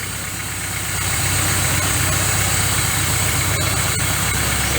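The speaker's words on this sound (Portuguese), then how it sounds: "O motor tá frio, então não precisa ter pressa em fazer essa regulagem" A cold car engine idles steadily while its carburetor is adjusted, a close, even mechanical rumble that holds constant throughout with no voices.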